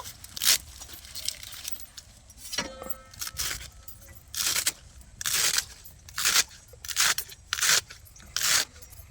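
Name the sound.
knife chopping spinach leaves finely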